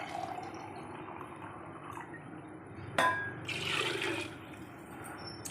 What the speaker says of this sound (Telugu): వాటర్ యాడ్ చేసుకోవాలి.